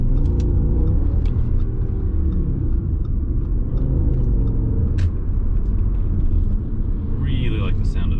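A 2008 Audi S6 V10 engine drones steadily while driving, a low, even rumble with road noise filling the cabin, moderately loud and continuous throughout.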